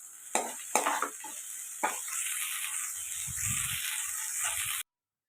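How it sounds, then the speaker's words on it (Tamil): A bunch of mint leaves sautés in a pan: a few sharp spatula scrapes and clinks open over a steady, close hiss of frying that then cuts off abruptly. "ஒரு கட்டு புதினா கொஞ்சமாக ஆயிடுச்சு பாருங்கள் இந்த மாதிரி நல்லா வதக்குவோம்"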